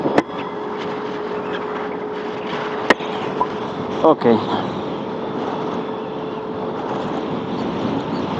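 A Yamaha NMAX scooter fresh from a Castrol oil change hums steadily on a test ride, a smooth continuous engine drone with wind noise throughout and a brief spoken word.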